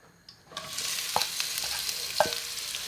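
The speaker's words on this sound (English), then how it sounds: "And we want to fry those down" Onions sizzling in about four tablespoons of coconut oil over medium heat, a steady close frying hiss with a couple of sharp spoon clicks, starting quietly before the sizzle rises.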